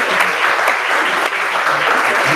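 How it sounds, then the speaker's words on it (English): Audience applause fills a hall after an entrepreneurship pitch final, a dense, steady wash of many hands clapping close and loud for the whole stretch, with no talk over it. "I think you deserve a round of applause."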